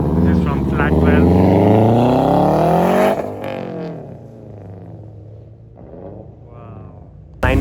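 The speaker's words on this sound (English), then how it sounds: "992 GT3 RS that is going on the track, followed by the 992 GT3" Porsche 992 GT3 RS followed by a 992 GT3 lapping a race track at a time attack event in Dubai, UAE; a loud engine climbs steadily in pitch for about three seconds, then drops away to a quieter, distant drone.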